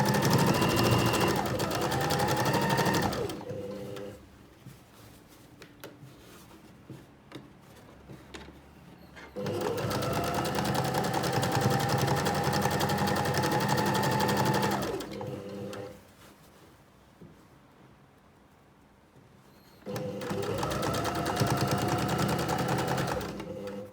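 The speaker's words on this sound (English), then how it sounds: "that's how fast I normally sew" A domestic sewing machine stitches a reversible tote bag in three long, fast, steady runs of close mechanical whirring, separated by quiet pauses.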